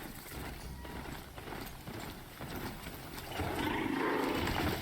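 Steady horse hooves clip-clop at a moderate pace amid busy game ambience in Horizon Zero Dawn, growing a little louder and denser toward the end.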